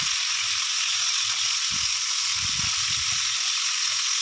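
Potato and cauliflower pieces frying in oil for a Bengali rohu fish curry, a dense constant hiss of hot oil with occasional low bubbling pops underneath, steady and close.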